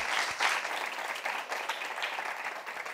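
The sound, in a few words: audience applause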